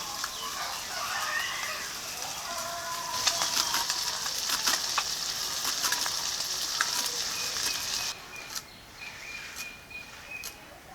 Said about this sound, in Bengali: মাছটা ভাজা হতে হতে